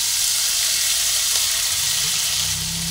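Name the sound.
frying spices with Kashmiri chilli powder and ginger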